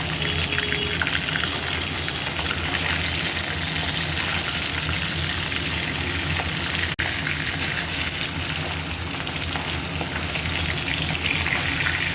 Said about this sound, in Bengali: কড়াইতে দিয়ে দেবো সর্ষের তেল মাছ না ভেজে ঝোলের ওপরে দিয়েও মাছ রান্না করা যায় তো আমি হালকা একটু ভেজে নেবো